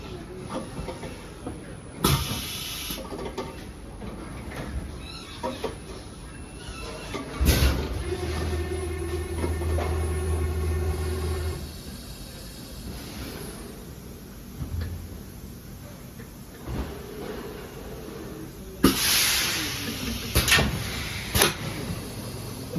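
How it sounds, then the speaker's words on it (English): A piston filling machine fills hand wash detergent bottles in a factory in Doha, clanking and hissing through repeated cycles with pneumatic bursts and mechanical knocks, loud and near, amid steady industrial hum. "filling machine for the detergent hand wash in the Doha custom"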